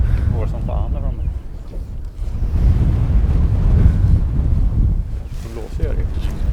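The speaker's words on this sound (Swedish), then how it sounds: "Det blåser gör det ju." Wind gusts roar and buffet across a motorboat during fly fishing in northern Sweden, a loud low rumble that swells and eases, with people talking over it.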